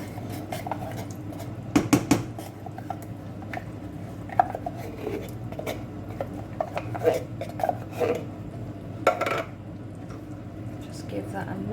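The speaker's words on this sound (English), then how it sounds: "Just give that a mix." Minestrone soup with pasta and baked beans being stirred in a pot, with scattered clinks and scrapes of a utensil against metal over a low background hum, close by, with a voice talking intermittently.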